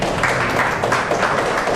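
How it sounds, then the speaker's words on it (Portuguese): Loud, dense applause from an audience welcoming the president of Curaçao, a brief continuous burst of many hands clapping with no voices over it. "Vamos receber com forte aplauso presidente do país Corsol, senhor Hensley Koeman"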